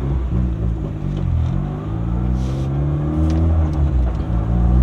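A turbocharged Honda Civic Si pulling hard on a street run, its engine droning steadily and climbing in pitch as it accelerates, heard up close from inside with no talking.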